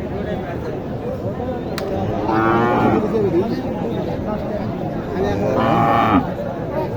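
Crossbred cattle moo at a traditional livestock market in Naogaon, two long loud lowing calls rising over a constant background murmur of the crowd.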